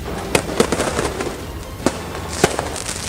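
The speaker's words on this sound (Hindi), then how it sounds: "फिलिस्तीनियों ने पटाखों की ऐसी झड़ी लगाई कि एक बार को इजराइल की पुलिस को ही अपने कदम पीछे खींचने पड़े" Protesters set off firecrackers in the Silwan area of Jerusalem during clashes with Israeli police, a string of sharp cracks and pops scattered irregularly over crowd noise, several loud bangs standing out near and far.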